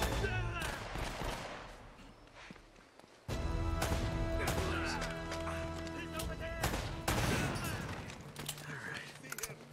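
Gunfire crackles in the video game Uncharted: Drake's Fortune, a run of sharp shots and bursts over ongoing game sounds, loud and close, with a sudden jump in level partway through.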